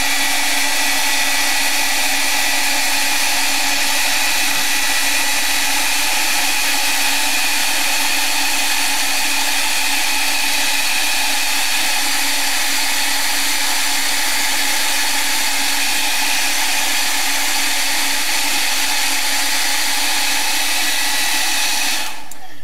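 A hair dryer blowing on wet watercolour paint on paper runs as a loud, unbroken motor whine and airy roar for over twenty seconds, then cuts off abruptly at the very end.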